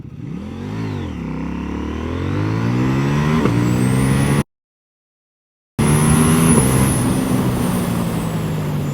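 An 800NK motorcycle launching and accelerating hard, its engine rising in pitch through several gear changes, loud and close, broken by a brief gap of silence before revving on again.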